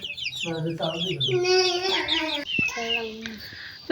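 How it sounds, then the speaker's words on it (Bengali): Chickens cluck and squawk in a rural Bangladeshi household yard, a run of close, loud, overlapping calls with a few sharper crowing-like cries, and no speech. "মুরগি দেখছেন কি অবস্থা করছে আজকে"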